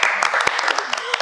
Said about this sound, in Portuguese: O professor Leonardo merece uma salva de palmas